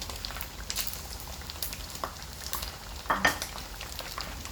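Papaya curry simmering in a pot, a soft steady bubbling and hiss with faint pops and crackles, quiet and continuous with no talking.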